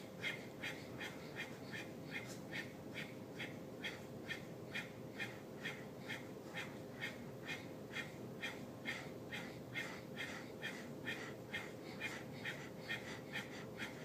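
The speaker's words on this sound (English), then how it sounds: "It's also called bellows breathing." Rhythmic diaphragmatic yoga bellows breathing: quick forceful exhalations pulse evenly about twice per second, close and steady throughout over a faint background hum.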